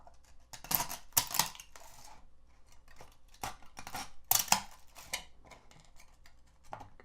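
Support material snaps and crackles as it is cut and broken off a 3D-printed hairy lion, in close, sharp bursts of clicks and crunches separated by short pauses.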